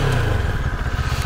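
A Moto Morini Seiemmezzo STR 650 motorcycle engine idles with a steady low, throbbing putter, close and loud, with no talking.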